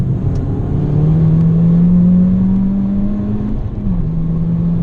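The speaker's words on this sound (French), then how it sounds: "dès qu'on hausse le rythme, le moteur il y va" Peugeot 208 GTI 30th engine pulling hard while driving, a steady loud drone that climbs in pitch, dips briefly around a gear change, then carries on, with no talk over it.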